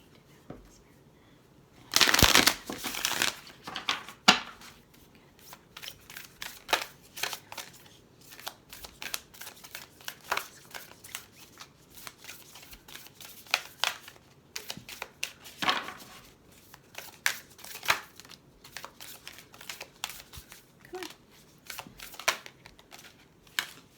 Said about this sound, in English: I wake my cards up by knocking them around a few times.